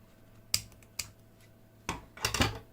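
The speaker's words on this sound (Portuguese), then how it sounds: "Agora vamos cortar o nosso fio." Scissors snip through yarn while making an amigurumi doll, a few quick crisp cuts spaced apart, then a double snip near the end, close and fairly quiet.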